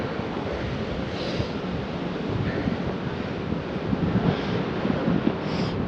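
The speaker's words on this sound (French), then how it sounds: "je vais me le prendre vent de face toute la journée" Steady headwind of 30 to 40 km/h roars across the microphone while cycling through the Montagne Noire mountains, a continuous moderate rush with slight gusts and no voices.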